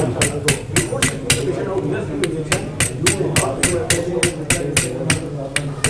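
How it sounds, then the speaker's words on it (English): Metal hammer strikes on an Ilizarov external fixator frame during orthopaedic surgery, sharp evenly spaced blows repeating about twice a second, close and loud, with people talking under the rhythm. "With the hammer."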